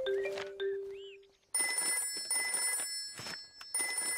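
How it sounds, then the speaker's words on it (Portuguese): A cartoon telephone trills in bright, repeated electronic bursts that ring steadily and loudly, following a few short musical tones at the start, with no voices heard over the ringing. "O telefone de emergência."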